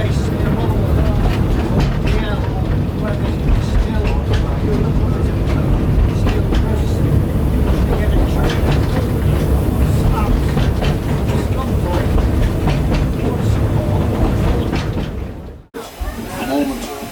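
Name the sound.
heritage train running on the South Tynedale Railway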